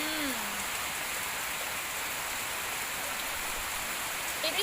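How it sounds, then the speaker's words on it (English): Steady, dense rain falling outside, a constant hiss with no pauses, heard close and fairly loud. "The weather right now is raining."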